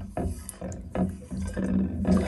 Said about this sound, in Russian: Все выливаю в унитаз.